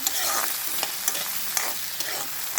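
Vankaaya (eggplant) fry is stirred in a pan over a steady sizzle, with a spoon scraping in a regular rhythm of light knocks. The sound is close and fairly loud, with no voices.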